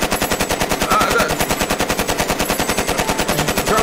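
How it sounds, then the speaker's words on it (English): Rapid automatic gunfire rattles steadily throughout, loud and close, with dense repeating bursts and no talking. "We don't need the gunfire."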